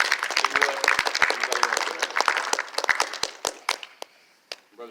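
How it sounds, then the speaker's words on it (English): Applause from a church congregation, a burst of scattered hand clapping that thins out over a few seconds and fades to isolated claps. "You give them guys a round of applause for doing something different."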